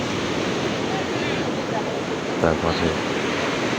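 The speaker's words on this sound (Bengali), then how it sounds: "কি সুন্দর সমুদ্রের ঢেউ, চারিদিকে শীতল আবহাওয়া," Sea waves breaking on the shore at Puri at dawn, a steady, loud broadband surf roar filling the whole stretch, with a voice speaking briefly over it.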